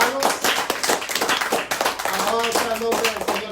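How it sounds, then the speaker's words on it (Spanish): A church congregation claps in quick rhythmic applause, fairly loud, with voices and tonal sounds mixed underneath. "¿Qué tal si le damos un fuerte aplauso al Espíritu Santo?"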